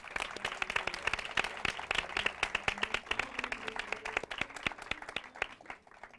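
A studio audience applauds steadily on a talk-show set as a guest is welcomed, dense clapping from many hands filling the whole stretch at a moderate, even level.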